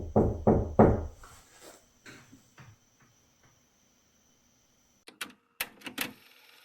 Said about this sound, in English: I'm gonna make a knock